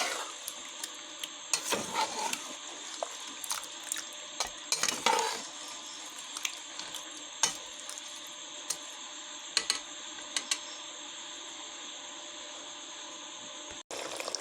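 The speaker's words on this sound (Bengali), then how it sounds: "এখন আমি ভালো করে মাংসগুলো কষিয়ে নেব" Duck meat being stirred and fried in a pan: repeated scraping stirs and soft sizzling, with intermittent clinks and sharper strokes over a quiet background, fairly faint and close.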